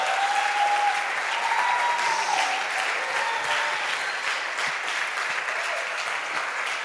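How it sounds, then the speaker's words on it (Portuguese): Congregation at a church service applauding, a dense, steady wash of many hands clapping that holds at full strength throughout, with a faint voice briefly audible near the start. "Dê uma salva de palmas a Jesus,"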